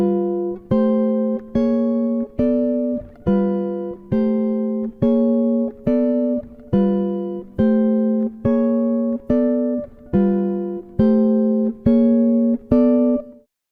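Steady repeated jazz walking chords on guitar struck in an even rhythm, each ringing briefly before the next, played alone with a clean tone.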